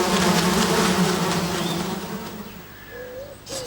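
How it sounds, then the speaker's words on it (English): Cartoon swarm of wasps buzzing loudly and continuously, a dense droning hum that slowly thins and fades toward the end, with a few faint whistly tones near the close. "Sad Sack groaned as more and more wasps arrived."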